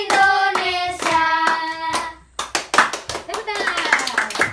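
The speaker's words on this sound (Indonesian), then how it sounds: "Tepuk tangan." In an Indonesian school classroom, voices are heard first, then a class of children claps their hands in quick, rhythmic bursts up close.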